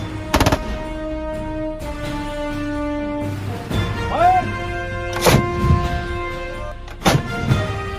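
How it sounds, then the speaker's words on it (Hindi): Indian Army soldiers fire weapons at a high-altitude firing range, with several sharp, loud gunshots spaced a second or two apart and echoing outdoors, while people talk between the shots. "यहाँ पे ये लोग फायरिंग की प्रैक्टिस करते हैं ताकि आगे जाके वो बिल्कुल मजबूत हो सके।"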